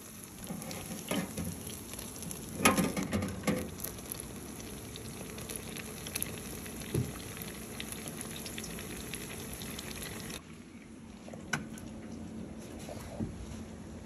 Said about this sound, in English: You wanna set your oil to 350 degrees and you're gonna just brown them up until the color you like.